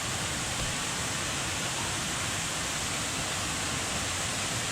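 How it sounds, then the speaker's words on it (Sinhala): Water boiling hard in a pot at a mountain campsite, a dense, steady rushing roil that holds loud and even throughout with no voices. "වතුර නටනවා."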